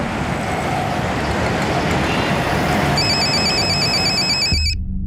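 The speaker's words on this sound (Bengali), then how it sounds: "আরে বললো ফোনটা একটু ধরতো।" A telephone rings near the end with a repeated electronic trill, sounding over a steady wash of traffic and roadway noise before everything cuts off abruptly.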